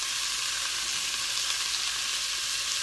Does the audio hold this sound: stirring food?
yes